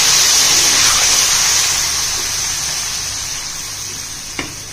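Water poured onto frying masala in a pan gives a loud hissing sizzle that slowly fades, ending with a brief utensil knock.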